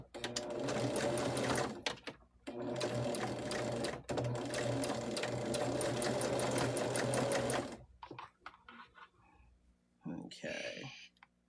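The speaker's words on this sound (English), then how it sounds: "Was that just a serger or was that a cover stitch?" A serger or cover stitch sewing machine stitches at high speed in two long continuous runs with a brief pause between, then stops, leaving a few clicks and handling noises with a voice near the end.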